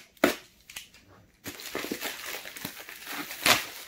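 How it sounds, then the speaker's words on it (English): A priority mail envelope is cut and torn open for an unboxing, with sharp crinkling, crunching paper and plastic bursts and handling rustles throughout, loudest near the start and end. "they always send it in this priority mail envelope, so once you cut that"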